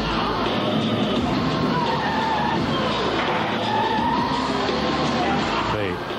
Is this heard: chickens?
no